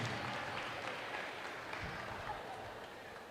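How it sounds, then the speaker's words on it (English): Crowd applause for the Canton Bulldogs volleyball team after their season at the MIAA Division 2 state finals, steady dense clapping filling a gymnasium, with voices faintly beneath. "an applause for the Canton Bulldogs on their great season"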